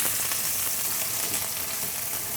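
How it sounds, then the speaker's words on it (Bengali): Sliced onions hiss and crackle in hot oil with whole garam masala spices, a steady, bright frying sizzle that holds evenly throughout with no voices. "আমরা একদম গরম তেলে গোটা গরম মশলা ছেড়ে দিয়েছি। এবার দিচ্ছি পেঁয়াজ।"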